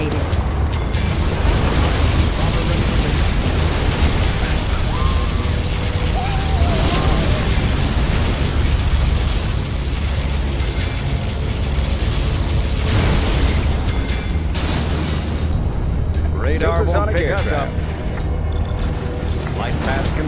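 Particle cannon superweapon firing in C&C Generals Zero Hour (Apocalyptic mod), a long, dense, roaring beam blast with rumbling low end that persists throughout amid battle noise and brief game voice announcements.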